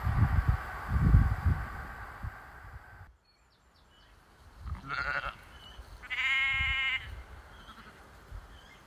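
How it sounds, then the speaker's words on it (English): Sheep bleat in an upland field near the edge of the moor, a few separate wavering calls at middle distance against a quiet outdoor background, with some low rustling and footsteps early on. "As we walk through this field of sheep"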